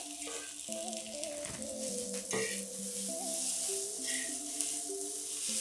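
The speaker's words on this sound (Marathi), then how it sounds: "लसूण व्यवस्थित तळून झाल्यानंतर आपण याच्यामध्ये ही भाजी टाकून घेऊया" Wild vegetable (pathri) tipped into garlic already fried in a little oil on a low flame, giving a steady close sizzle and hiss with faint stirring scrapes throughout.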